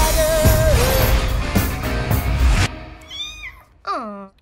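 A cartoon cat gives two short, rising meows close up and alone, right after a busy stretch of loud music and sound effects.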